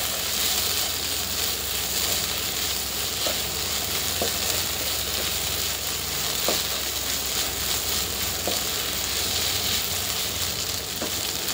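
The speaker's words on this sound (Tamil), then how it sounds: "அதே மாதிரி ஒரு 2 மினிட்ஸ் நல்லா அப்படி கிண்டி விட்டுட்டு" Prawn masala frying in a pan, a steady close sizzle with sharp spatula scrapes and taps recurring every second or two as it is stirred, with no voices.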